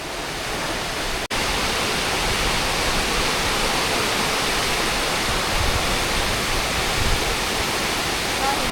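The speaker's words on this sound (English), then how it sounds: "These waterfalls are known as Iceland's bluest waterfalls." Steady, full roar of Iceland's blue waterfall on the Golden Circle, a dense rushing wash of falling water that stays loud and constant, broken only by a brief dropout near the start.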